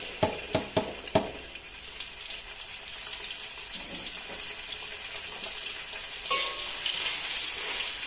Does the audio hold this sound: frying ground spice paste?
yes